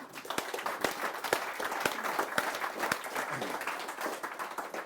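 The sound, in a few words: audience applause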